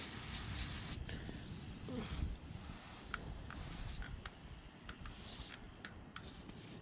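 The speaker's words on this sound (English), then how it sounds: "so we'll go ahead and spray it on these right here" Spruce EZ-AIM grass and weed killer hissing from a nozzle onto weeds outdoors, a steady close spray with brief pauses and small clicks of the trigger, no talk.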